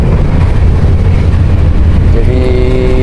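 The KA Dharmawangsa economy passenger train runs steadily, heard from inside the carriage as a loud, continuous low rumble of wheels and rails, with a faint tonal whine rising near the end.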